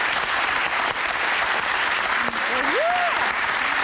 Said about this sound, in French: Je vous demande d'applaudir Amélie